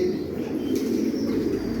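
Soft, steady pigeon cooing murmurs low and continuous, with a faint rustle partway through and no talking.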